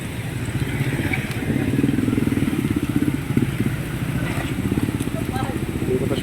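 A motorcycle engine runs steadily on a flooded road, a close, rough rumble with light clatter that holds the same level throughout. A person talks over the engine.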